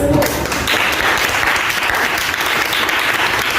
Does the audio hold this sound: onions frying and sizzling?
no